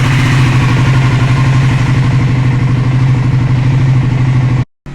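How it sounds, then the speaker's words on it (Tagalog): A Triumph Scrambler motorcycle engine idles loudly and close, warming up with a steady, even pulsing thrum that cuts off abruptly at the end. "Init muna natin makina."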